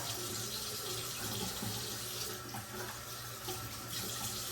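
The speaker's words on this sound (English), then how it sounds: "And now I'm going to rinse that out." Tap water runs steadily from a faucet into a sink while a razor or hands are rinsed during head shaving, a constant close splashing flow with no talk.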